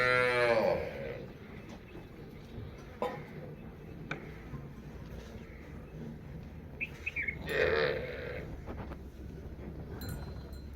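A Nili water buffalo moos twice, a long, loud low call at the start and another near the end, with faint bird chirps in the background between them.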